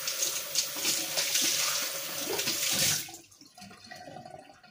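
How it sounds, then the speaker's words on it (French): A yogurt pot rinsed under a running kitchen tap, a loud, steady splashing hiss that cuts off abruptly partway through, leaving quiet room sound and light handling noises. "Alors, je vais rincer le pot."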